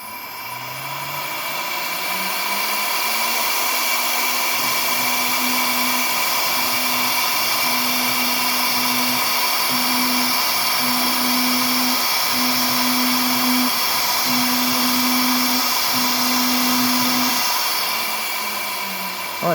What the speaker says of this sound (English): let's move the video on to showing the engraving with the Mega V2 now